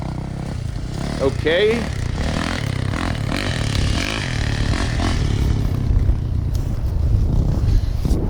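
A Yamaha YZ450F dirt bike engine rumbles on a hillside, a steady mid-distance drone with some revving, scraping and clattering, while a person speaks briefly over it.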